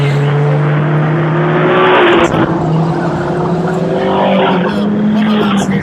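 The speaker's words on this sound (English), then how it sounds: "The car of 77 Robert Hooper screeching into the cars back in" Stock car engines roar loudly through an oval race as one car screeches into others, tire squeal and engine drone sustained under a commentator's continuous talk.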